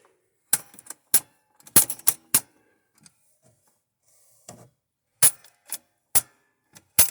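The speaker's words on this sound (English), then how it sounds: "That click sound, the clicking sound is coming from your switch." The power switch on a Voice of Music record player gives sharp, close mechanical clicks, several crisp snaps in irregular clusters separated by near-silence, with faint handling sounds in between.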